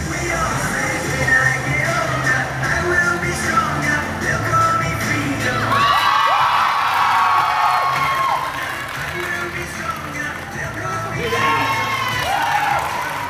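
Children cheer, shout and whoop amid clapping at a freestyle football trick show during a mini football cup in Keelung, a lively crowd roar with rising excited cries and high-pitched yells throughout.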